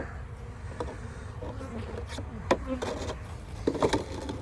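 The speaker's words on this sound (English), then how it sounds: "Get the rest of the bees that just flew in there out." Bees buzz faintly around a hive amid scattered scraping and rubbing noises close by.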